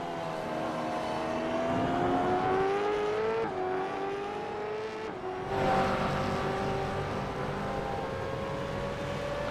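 A V8 race car in a sim racing broadcast at Snetterton sweeps past, its engine note rising and falling in a smooth whine as it nears and pulls away, loud and continuous.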